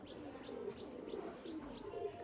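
Chinese Teddy pigeons, a male and a female, cooing in a pigeon loft: soft repeated coos in a steady rhythm, close but quiet, with faint chirps mixed in and no talking.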